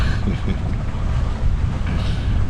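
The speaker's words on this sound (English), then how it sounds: "It's proper windy in the anchorage here." Wind roaring over a sailboat heading into a bay with a windy anchorage, heard as a loud, continuous, gusty rush of noise buffeting the microphone from start to finish.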